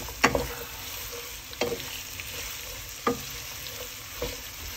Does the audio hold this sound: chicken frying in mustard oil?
yes